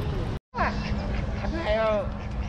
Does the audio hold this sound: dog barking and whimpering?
no